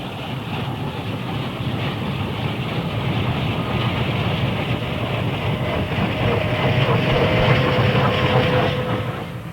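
A Delaware & Hudson Class B4A Camelback 0-6-0 steam locomotive built by Alco in 1904 rolls along with a steady, dense rumble and faint rail clatter, continuous and moderately loud, with no talk.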